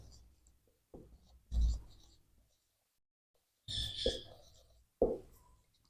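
A pen scratching out given data for a physics numerical, several short separate writing strokes between quiet gaps, close and fairly soft.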